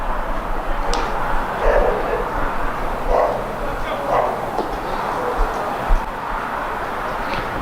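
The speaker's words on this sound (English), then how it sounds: "As some fellow dogs bark at each other down in the stands." Dogs bark and yip at each other in the stands at a college baseball game, producing several short, mid-distance barks spread through a steady crowd murmur, with no clear voices.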